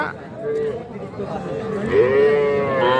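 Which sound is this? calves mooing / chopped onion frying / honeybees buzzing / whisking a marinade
calves mooing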